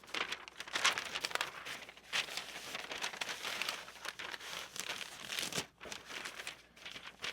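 Assorted sheets of paper handled by hand for a homemade planner, soft crinkling and rustling in close, uneven bursts with brief pauses, quiet and without speech.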